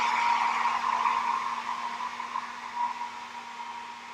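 A hair dryer drying paint blows continuously at close range, a steady airy roar with a faint motor whine, no voices.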